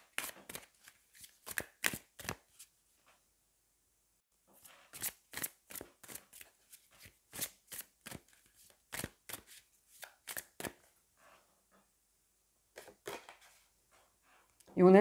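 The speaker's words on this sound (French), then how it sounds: "Je vais prendre une carte de la sagesse des royaumes cachés, peut-être dans un premier temps." Oracle cards are shuffled and drawn from a deck in quick bursts of crisp riffling taps, close and quiet, pausing between runs with a brief soft voice near the end.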